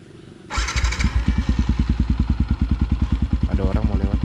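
Yamaha WR155R supermoto with an upgraded carburetor jet, starting up and then idling with a steady, punchy exhaust thump, close by, and a short voice breaking in near the end.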